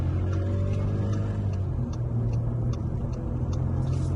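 Skoda Scala Elite 1.0 TSI 115 PS with DSG gearbox, in sport mode, accelerating at full throttle, heard from inside the cabin as a steady, droning engine hum with faint ticking above it.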